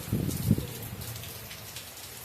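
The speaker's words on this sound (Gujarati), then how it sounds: "પવન સાથે વરસાદ ચાલુ છે રાજકોટમાં" Rain patters steadily and fairly softly in Rajkot, with a low gusty rumble of wind near the start that fades into the even fall of drops.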